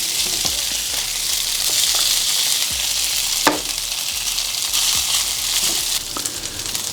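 Butter-flavored restaurant griddle oil sizzles steadily across a hot flat-top griddle during breakfast cooking, a continuous bright hiss with a few scraping taps and clicks layered on top, close and fairly loud, with no voices.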